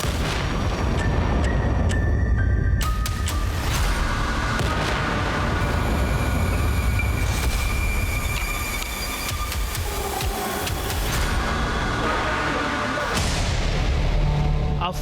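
Heavy, continuous rumbling blasts and booms from US fighter jets bombing Iran, a dense roar of explosions and artillery-like fire sustained loudly throughout with no pauses.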